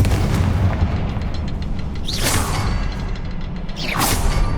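Confringo blasting spells in Hogwarts Legacy: a rumbling, continuous low boom with two bright whooshing bursts around the middle and end, loud and dense, with no talking.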